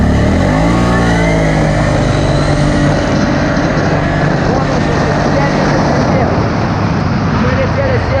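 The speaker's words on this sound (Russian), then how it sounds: "сейчас установлюсь и газ пол нажму, смотрите" A CFMOTO X8 EFI quad bike runs at full throttle on loose sand, its engine roaring loud and close in a sustained, strained drone that swells in pitch early on and then holds steady.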